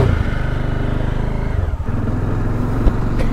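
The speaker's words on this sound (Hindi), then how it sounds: "अभी मैं मेरे डोमिनार पे और जैन दादा हमारे उनके बाइक पे" Bajaj Dominar motorcycle ridden on a ghat road, its engine giving a steady, close mid-pitched drone with a brief dip partway through and a short bump near the end.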